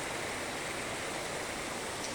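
Indoor water fountains inside Qatar Mall give a constant, dense rush of falling and splashing water, steady and fairly loud throughout with no voices.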